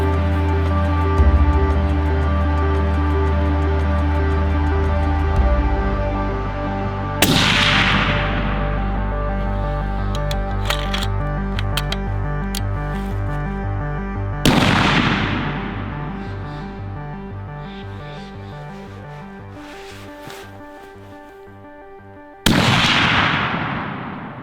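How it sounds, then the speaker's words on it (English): Three sharp, loud rifle shots from a mountain goat hunting camp in Alaska, evenly spaced about seven seconds apart, each ringing out and decaying over a sustained background hum. "we're gonna shoot some rifles"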